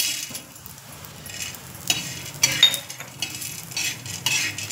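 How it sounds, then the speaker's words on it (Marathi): Chana dal and other ingredients roasting in a pan with a little oil, a low sizzle under repeated metal scrapes and clinks of a spoon stirring, close by and without talk. "थोडंसं तेल टाकून आपण हे सगळं साहित्य भाजून घेत आहोत"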